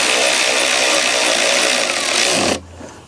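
A power socket driver with a 5/32 socket runs bolts down on a Jeep Gladiator while fitting an AEV snorkel, giving a steady, loud mechanical whine that cuts off abruptly near the end.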